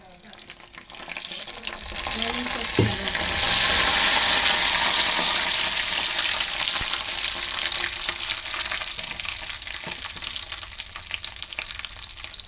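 A drop of buttermilk added to hot melted ghee sets off a loud, steady, close sizzle that swells quickly and holds for several seconds, with a brief spatter early on.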